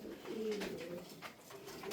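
Tumbler pigeons coo softly inside a loft, a few low rounded calls drifting at a quiet level against faint background noise, with no voices.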